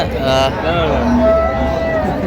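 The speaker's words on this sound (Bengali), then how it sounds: "গরুগুলো দেখছেন বেলাল ভাই" Sahiwal cows and calves at a village cattle market in Dinajpur, one giving a drawn-out moo close by amid crowd noise and murmuring voices.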